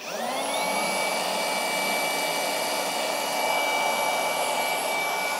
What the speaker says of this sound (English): i'm going to pull the triggers and lock them in